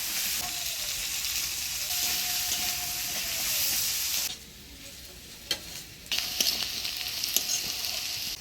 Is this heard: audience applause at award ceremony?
no